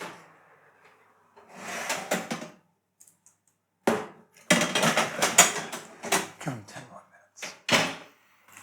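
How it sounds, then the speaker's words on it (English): An oven door clunks open and a tray of roasting aubergines for a parmigiana is pulled out, with metallic scrapes, knocks and handling noises in separate bursts alongside a person's voice. "I'll take those out of the oven and show you just how they look"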